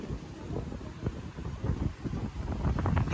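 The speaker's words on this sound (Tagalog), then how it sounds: "Malakas kasi ng hangin po." Strong gusty wind buffets the microphone in low, uneven rumbling bursts that swell and fade, with no voices.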